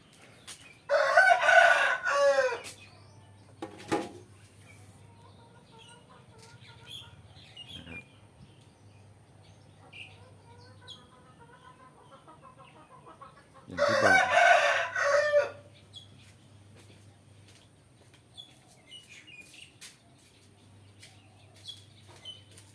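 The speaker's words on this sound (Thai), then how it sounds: "นี่แหละครับเสียงไก่มาอีกแล้วครับ ธรรมชาติจริงๆครับ" Rooster crowing twice in a rural Thai village setting, two loud bursts about eleven seconds apart, with soft chicken clucks and faint ambient noise between them.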